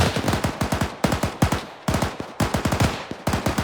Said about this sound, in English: I'm hearing some fire off to the left now